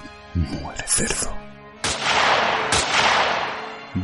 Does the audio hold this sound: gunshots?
yes